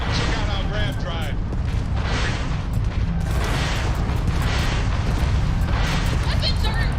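Hits on a spaceship in the Starfield video game erupt as dense, loud booming blasts that roll on without a break, thick and rumbling throughout.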